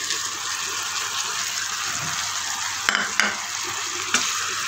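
Raisins, coconut and peanuts sizzle steadily as they are stirred in caramelising sugar in a pan, with a few sharp scraping clacks of a spoon near the end and no talking.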